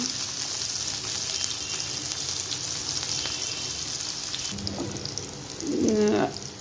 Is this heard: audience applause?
no